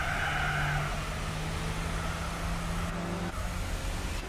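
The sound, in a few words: racing car driving in Gran Turismo 4 video game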